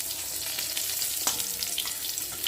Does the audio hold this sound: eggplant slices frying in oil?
yes